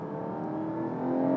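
The 4.0-litre flat-six of a Porsche 718 GTS 4.0 revs steadily with a dense, throaty drone that swells slightly toward the end, heard continuously without speech.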